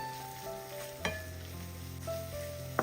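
Black pepper and green chillies fry in a pan with a soft, steady sizzle and a couple of sharp utensil knocks as they are stirred, quiet and close.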